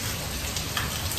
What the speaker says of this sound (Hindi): बहुत तेज बारिश आ रही थी।